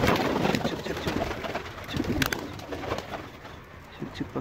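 A male pigeon coos in a loft, with low, throaty, rolling coos repeating close by over a busy background of other birds' rustling and soft calls.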